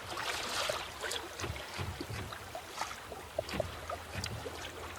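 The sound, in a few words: sailboat sailing on a broad reach with full main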